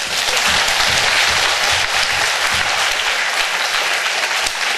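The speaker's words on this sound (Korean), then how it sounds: "예수님의 영광의 박수 한번 드릴게요" A congregation applauds during a Korean church service, a loud, sustained and even burst of clapping filling the whole moment with no speech over it.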